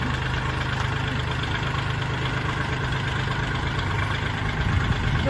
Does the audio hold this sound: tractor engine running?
yes